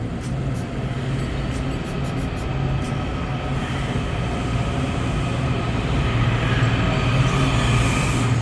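A Blue Line metro train rumbles steadily past at close range, with continuous rolling wheel noise and faint high squeals, no voices.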